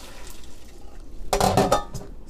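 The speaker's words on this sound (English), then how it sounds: "we're going to dump the water out from this." Water from a pot of cooked ingredients for turkey pot pie is dumped out, a sudden splashing pour with metallic clinks of the pot that starts after a quiet moment and lasts under a second.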